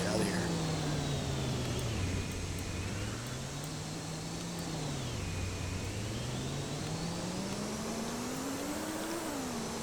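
A truck driving away in a Roblox Studio game, its engine droning steadily with pitch rising and falling as it moves, over a constant background hum.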